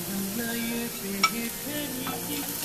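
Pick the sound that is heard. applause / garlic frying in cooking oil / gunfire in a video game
garlic frying in cooking oil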